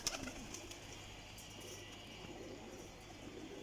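Pigeons kept for flying give soft low cooing calls at a faint, steady level amid quiet room ambience, with a few brief sharper chirps and rustles early on.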